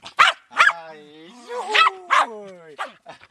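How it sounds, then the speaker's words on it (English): A local village dog barks in several sharp, close bursts, with a whining, voice-like tone between the barks. "And this is Bobby, the local dog here."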